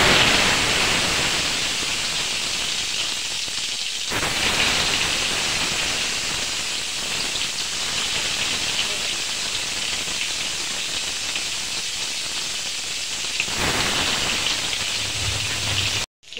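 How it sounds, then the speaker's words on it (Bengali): Pointed gourd (potol) fries in hot oil, giving a loud, dense and continuous sizzle close by that eases briefly in the middle and then returns. Nobody speaks. "এই যে আমি তেল দিয়ে দিচ্ছি পটলটা ভাজা করব"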